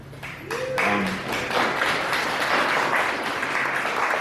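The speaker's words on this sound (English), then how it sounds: "Clapping is good, by the way." Steady audience clapping fills the room, loud and sustained, with a brief ringing tone and some scattered taps near the start, no talk over it.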